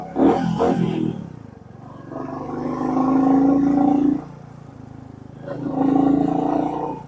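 A Royal Enfield Meteor 350 motorcycle on its stock silencer, ridden on a mountain road, revs loudly close up in two long, swelling roars separated by a quieter idle.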